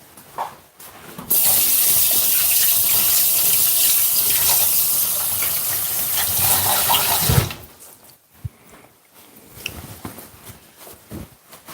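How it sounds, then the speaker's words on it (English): Hands being washed under a running kitchen tap: a steady rushing stream of water lasting several seconds, then shut off, followed by faint scattered kitchen clatter. "just going to wash off my hand a little bit"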